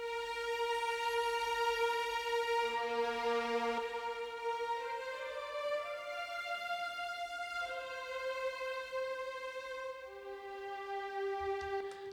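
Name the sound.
Cinematic Studio Strings violins playing in octaves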